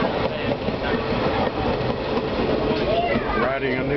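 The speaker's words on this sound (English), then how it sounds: "Riding a New York City subway through the woods of Maine." An IRT New York City subway train rumbling along the rails through the Maine woods, with continuous roar, rhythmic clatter and faint metallic squeals rising toward the end; voices murmur underneath.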